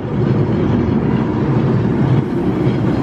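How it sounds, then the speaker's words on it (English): An illuminated tram on Blackpool promenade rolls past close by, a steady loud rumble of wheels on rail with a faint clickety-clack throughout, no voices. "Oh, illuminated tram again."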